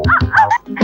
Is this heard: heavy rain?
no